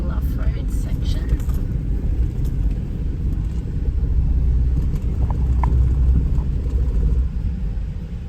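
Vehicle rumbling along an off-road sand track on K'Gari Fraser Island, a steady engine drone with some jolts, heard from inside the car as people talk over it.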